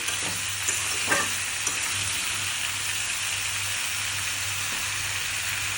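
Jackfruit curry sizzles and fries steadily in a pan as salt is added, a continuous close hiss with a few soft stirring knocks and no talking.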